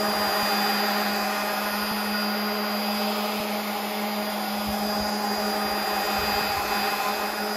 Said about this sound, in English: Then a bit of a sand with some 80 grit.